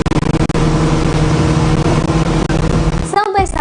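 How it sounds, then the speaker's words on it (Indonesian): Speedboat engine roaring loudly and steadily across open water, a dense, continuous drone that cuts out abruptly near the end, with someone speaking over it. "Deru suara mesin speedboat terdengar cukup kencang."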